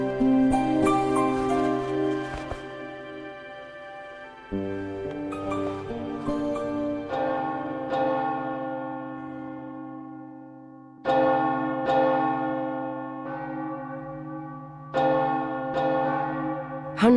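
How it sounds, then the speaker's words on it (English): Church bells in plague-stricken London, rung for each death, toll in clear ringing strokes that overlap and decay, with fresh strikes arriving every few seconds and no voices present. "Church bells were rung for every death."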